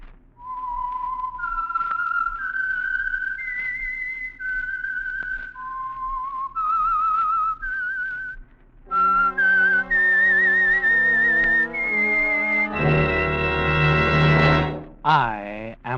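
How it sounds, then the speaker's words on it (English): A whistled theme tune for the radio program The Whistler, a lone eerie melody of sustained, sliding notes, followed by a brief orchestral sting and a rising swoop at the end. "the signal to listen for is this whistle that identifies the Signal Oil program"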